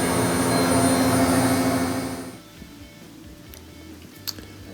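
A Bosch washing machine, just repaired for an E43 fault, spins loudly with a steady broadband whir and hum for about two seconds, then winds down sharply to a faint low rumble with a few small clicks.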